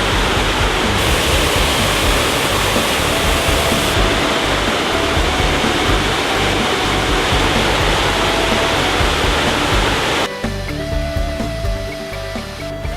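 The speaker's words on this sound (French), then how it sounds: "telle cette belle cascade dont le débit n'est pas encore très important parce qu'on est en saison estivale" A waterfall cascade in the Jura, running at modest summer flow, gives a steady, loud, close rushing roar throughout, with a slight shift in texture near the end and no voices.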